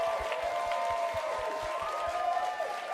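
Audience applauding at a Comic-Con 2018 live show, a steady patter of clapping filling the room with some cheering and music mixed in underneath.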